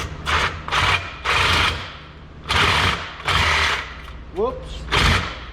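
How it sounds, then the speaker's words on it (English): Battery-operated sawzall fitted with a metal blade cutting through a rusty grill, loud rasping bursts coming in several separate runs of about a second each with short pauses between, close by, with a brief squeak near the end. "I have a sawzall, just a battery operated sawzall with a metal blade in it, and I'm going to cut this."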